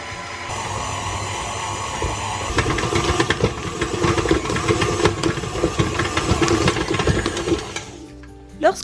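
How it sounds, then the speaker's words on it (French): A stand mixer kneads bread dough for a pain de mie at a higher speed, giving a steady motor hum with rhythmic thumping and churning that grows busier partway through, then cuts off near the end. "je vais pétrir à vitesse un peu plus grande, enfin une plus grande vitesse sur mon robot"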